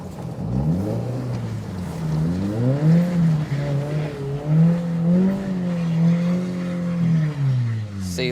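A turbocharged E85 Toyota FRS revs hard while its wheels spin on ice, a loud wavering engine drone that rises and falls over several seconds, up close with faint voices underneath.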